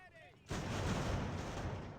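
Musket volleys and artillery fire in the Ultimate General: American Revolution game erupt as a sudden dense crackling burst of massed shots that rolls on continuously after a brief quiet moment.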